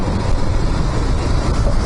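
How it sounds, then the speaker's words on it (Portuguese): Strong, steady wind roars and buffets the microphone after a heavy rainstorm near Ibirapuera Gymnasium in São Paulo, a dense, loud rushing noise with no pauses. "Puta ventania do caralho."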